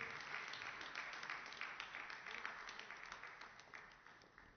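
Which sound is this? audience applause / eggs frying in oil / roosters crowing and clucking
audience applause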